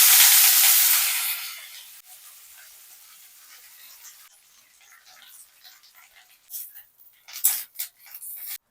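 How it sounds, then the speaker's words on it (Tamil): Curry leaves fry in chili-flavored oil with a bright hiss and sizzle that starts strong, then settles into a quieter steady frying crackle. A few sharper stirring scrapes come near the end. "மிளகா வறுத்த அதே எண்ணெயில நம்ம கருவேப்பிலையும் வதக்கி எடுத்துக்கிறோம்."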